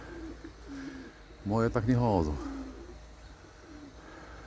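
Soft, low pigeon coos murmur faintly before and after a man's brief spoken remark, which rises clearly above them in the middle.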